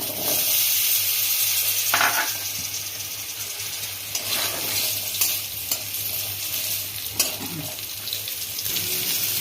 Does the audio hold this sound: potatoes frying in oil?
yes